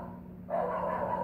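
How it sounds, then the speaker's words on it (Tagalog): A single short dog bark rings out nearby against a quiet background hum. "Yan ang ingay naman ang aming aso."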